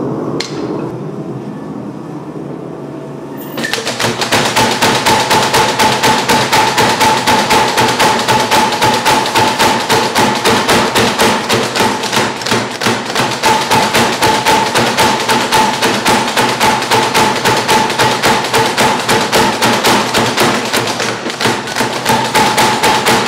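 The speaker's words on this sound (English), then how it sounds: "We're going to forge that in the other hammer." A bunka knife blade being forged under a power hammer, its rapid, steady mechanical blows pounding loud and close without pause after a quiet start.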